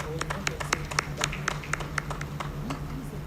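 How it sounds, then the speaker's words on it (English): Audience members at a closing ceremony of an African Union private sector forum give a round of applause, with distinct, fairly sparse claps ringing out over a steady low hum and faint voices. "Let's give him also a big round of applause"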